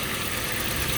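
A 2003 Toyota Kijang LGX engine idling, a steady close mechanical hum with even clatter throughout a brief moment, no talking.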